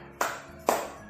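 Classroom students doing a rhythmic spirit clap before a lesson, two sharp, loud group claps spaced about half a second apart with a short decay after each.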